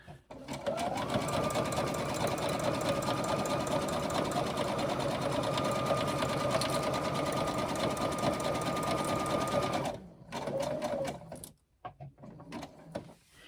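A sewing machine zigzag stitching fabric, running as a steady rapid mechanical whir and clatter for about ten seconds, then stopping, followed by a few short bursts and handling clicks, close and fairly loud.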